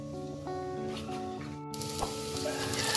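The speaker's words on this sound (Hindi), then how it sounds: "दाल माश को तड़का लगाने के लिए सबसे पहले इसमें मैंने प्याज डाला है।" Onions hit hot oil for a tadka for dal mash with a sudden loud sizzle that keeps hissing steadily, while soft background music plays.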